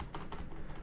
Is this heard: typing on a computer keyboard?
yes